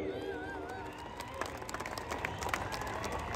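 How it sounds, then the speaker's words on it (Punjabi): Crowd at a live concert in Rurka Kalan breaks into applause for a group of young men, scattered clapping and cheering rising under a voice over a PA system. "ਇੱਕ ਤਾੜੀ ਇਹਨਾਂ ਨੌਜਵਾਨਾਂ ਦੇ"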